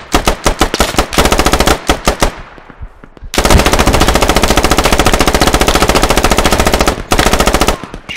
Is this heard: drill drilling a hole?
no